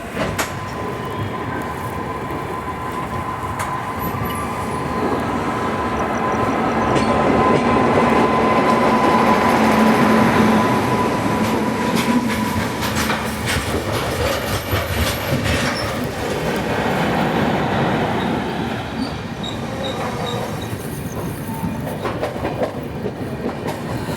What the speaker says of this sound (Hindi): ग्यारह बजकर 48 पर हमारी ट्रेन पहुंची है जलगांव जंक्शन